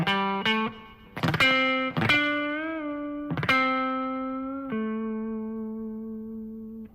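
Electric guitar plays a short minor pentatonic phrase with quarter-step and half-step string bends: several picked notes, some bent upward and wavering, the last held and slowly decaying, clean-to-lightly-driven tone, solo with no talk.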